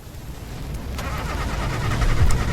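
A car engine cranks and catches in a horror game set in a cornfield, a short low rumble that swells and grows louder toward the end, with no talk over it.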